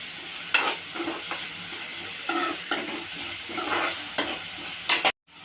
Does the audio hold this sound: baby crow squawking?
no